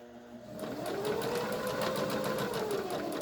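A sewing machine top stitches blue fabric for a hospital mask a quarter inch from the edge, starting after a brief pause and then holding a steady, close, buzzing whir.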